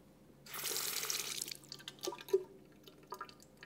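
Water gushing and then dripping out of a 1960s Gillette Techmatic cartridge razor after it was held under a tap, a loud burst of pouring followed by scattered splashes and drips into a sink.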